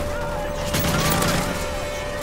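An AK rifle fires in the video game Modern Warfare 3 Spec Ops, a short burst of rapid shots in the middle over a constant game background hum and tone, the gunfire sounding somewhat distant.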